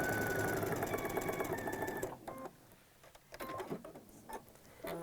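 A sewing machine stitching a quilt seam, whirring in a steady fast buzz for about two seconds before stopping, followed by a few soft clicks and handling noises.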